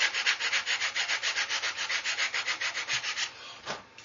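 Rapid, rhythmic back-and-forth scraping of sanding on a small hard plastic model part, about six strokes per second, close up, then slowing and stopping.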